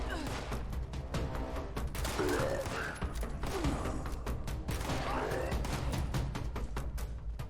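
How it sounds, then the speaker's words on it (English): Hunting rifle gunfire in the video game Fallout 76 comes as a rapid string of sharp shots over a busy, noisy background, with a voice talking at times. "These hunting rifles are awesome."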